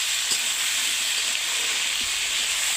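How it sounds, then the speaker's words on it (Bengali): Potatoes and drumstick stalks fry with salt and turmeric in a home kitchen pan, making a continuous close hissing sizzle with a few soft clinks of stirring. "চিকেনের জন্য ভেজে নেব এইভাবে"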